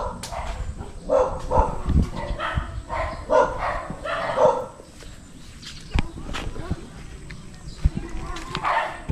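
A dog barks in short bursts at an outdoor spot by a kangkong-filled pond, the yaps fairly close and repeated over a minute of rustling and a man's calls.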